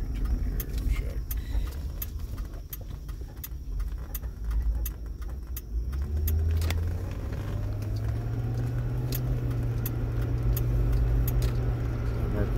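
A car's engine and road noise hum inside the cabin while it makes a U-turn on a Sarasota, Florida road, with a ticking indicator and jangling keys, the engine rising in pitch as it accelerates.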